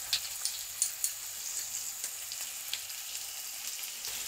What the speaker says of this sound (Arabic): بنحمص فيهم وبنخلط البصل بالدجاج